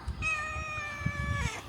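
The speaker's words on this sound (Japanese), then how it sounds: "猫ちゃん" A cat gives one long, drawn-out meow, fairly close and clear, over faint low background noise outdoors in a quiet Taiwanese town.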